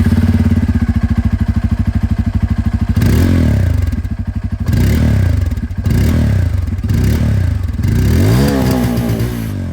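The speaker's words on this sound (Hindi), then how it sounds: "डुअल बैरल एग्जॉस्ट आपको यहाँ पर मिलता है। आवाज़ इसकी सुन लेते हैं।" A 2024 Bajaj Pulsar N250 motorcycle with a dual-barrel exhaust, loud and close: a steady thumping idle, then several sharp throttle blips that rise and fall in pitch.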